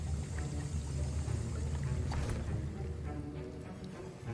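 A potion is stirred in a cauldron during a Hogwarts Legacy potion class, giving a steady, watery swishing and sloshing with a low murmur underneath and no speech.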